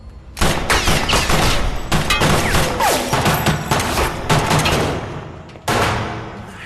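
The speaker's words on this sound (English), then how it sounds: "Who's shooting?" Rapid bursts of gunfire crackle loud and close in dense, overlapping volleys for several seconds, briefly pause, then resume with another sharp burst.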